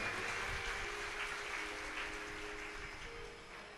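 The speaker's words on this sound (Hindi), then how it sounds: "एक बार इनके लिए जोरदार ताली बजाए।" Faint, distant audience applause at a Shiv Puran katha gathering, a soft continuous patter of clapping that gradually fades toward the end.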